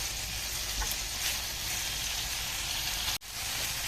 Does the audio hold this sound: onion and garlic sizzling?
yes